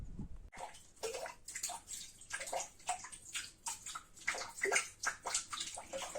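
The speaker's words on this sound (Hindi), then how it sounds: "ये पानी बूंद बूंद टपक रहा है और इससे पूरी टंकी भरी हुई है।" Spring water from a mountain source dripping and splashing into a full storage tank, a steady run of close, bright watery plinks and sloshes with no voices.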